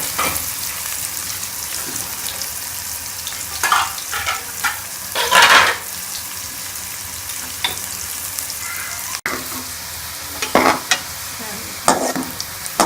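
Onions fry in a pan for an aloo kofta curry while a spoon stirs them, making a low background sizzle broken by several sharp, close scraping strokes and one brief clack, with no talking.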